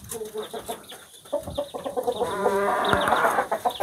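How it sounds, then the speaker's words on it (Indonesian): Bangkok ornamental stick-tail rooster clucking and crowing close by, a string of short clucks leading into a sustained harmonic crow toward the end, with no talk. "Ayam hias ekor lidi."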